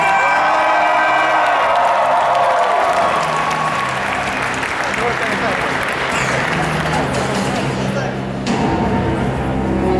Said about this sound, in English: Clap and scream for Iron!